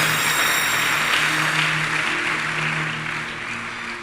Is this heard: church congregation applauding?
yes